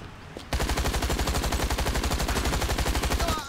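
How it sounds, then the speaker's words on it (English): Rapid automatic gunfire from a shotgun in a zombies, monsters and robots PvP video game, loud and steady, a continuous burst of evenly spaced shots that lasts about three seconds after a brief lead-in. "I got an OP shotgun. It does 38 damage."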